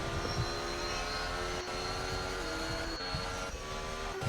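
Formula 1 car engine revving hard at full throttle down a straight in a racing video game, a steady, loud, high-pitched whine holding near constant, with no talk over it.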